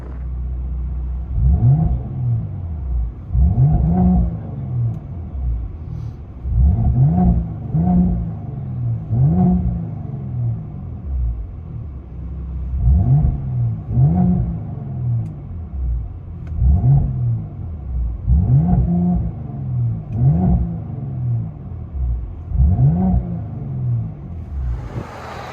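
Straight-piped 3.0-litre bi-turbo V6 of a 2019 Mercedes GLE 43 AMG, heard from inside the cabin: a deep droning rumble that swells in repeated rhythmic revs and surges, steady and fairly loud with no talking.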